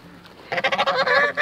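Several loud, close goose honks in a quick run of calls on a farm beside a garden, with pigs nearby.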